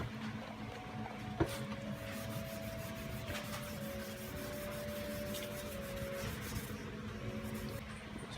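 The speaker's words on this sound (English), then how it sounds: "See, we're just scuffing this with the gray." A gray Scotch-Brite pad scuffs across auto bodywork in faint, soft rubbing strokes, a quiet raspy swish repeating close by with no talking.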